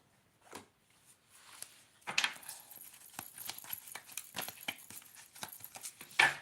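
Tarot cards are shuffled close by in a quiet room, giving faint, irregular papery riffles and soft slaps that grow denser and louder toward the end.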